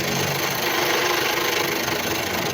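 A 170cc motorcycle engine with a damaged, chipped piston runs loudly and harshly, a steady dense mechanical clatter and rattle held close and continuous throughout.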